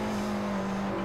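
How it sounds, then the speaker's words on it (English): The BMW F10 M5's V8 in Forza Motorsport 4 holds a steady, buzzing engine drone at a constant pitch, loud and continuous with no talking over it. "It just doesn't sound like I expected V8 to sound,"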